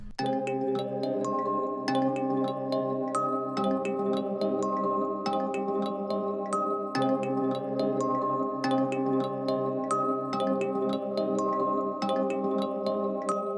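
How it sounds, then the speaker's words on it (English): A slow, dark piano and bell loop with steady tonal layers and sharp, regularly spaced bell strikes, playing continuously at even loudness with no voices. "with that bell and the piano, it just kind of sets the really dark ambient vibe"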